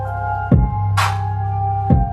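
Two deep kick drum thumps, about a second and a half apart, land over a sustained low bass tone and steady synth notes, with a hi-hat-like burst between.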